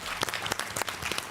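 A television studio audience breaks into brief applause, a dense burst of clapping close by, lasting just over a second.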